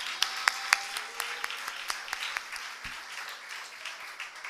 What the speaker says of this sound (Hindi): ताली बजा के परमेश्वर का धन्यवाद करें।